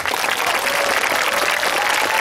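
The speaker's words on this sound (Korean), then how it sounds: "우리 유승민 의원님께 큰 박수 한번" Lecture hall audience applauding lawmaker Yoo Seung-min at a 2017 university talk, a loud, dense, unbroken wash of clapping.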